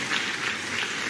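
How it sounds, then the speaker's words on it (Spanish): A church congregation applauds as one dense wash of clapping. It is brief and steady at moderate loudness, with no voices standing out. "Ahora sí, den un aplauso."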